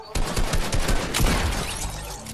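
Rapid close gunfire in a one-on-one video game match, a dense continuous burst of shots rattling for the full length at high volume, with no voices.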